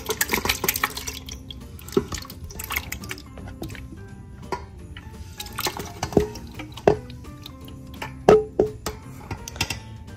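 Steeped Caribbean sorrel drink is strained, giving a close trickle and splash of liquid with scattered drips and wet squishes that come in uneven bursts, without any talking.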